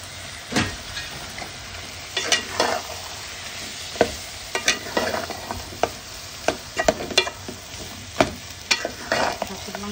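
Goat meat chunks fry in a cooked-down spice paste, sizzling steadily while a spoon scrapes and stirs the pot in repeated sharp clatters throughout.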